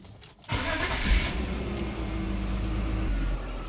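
A BMW E39 with an M50/M52 inline-six, after a DIY belt replacement, is started up close: a brief crank, then the engine catches with a rev and settles into a steady idle.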